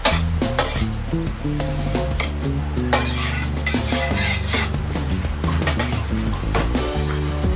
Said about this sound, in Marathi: तर व्यवस्थित त्याला भाजून घ्या.